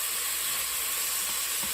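Onions and beef searing in a non-stick pot while braising stout beef short ribs, giving a steady, close hiss of frying that holds evenly throughout with no talking.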